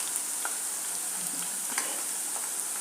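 Bitter gourd frying in hot oil, a steady close hiss of fine crackles and light sizzling pops, alone and without talk.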